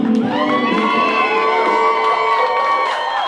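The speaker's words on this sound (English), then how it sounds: "Big round of applause for Paul!" A lively crowd at a comedy wedding show cheers and whoops loudly and continuously, many overlapping high-pitched voices shouting together.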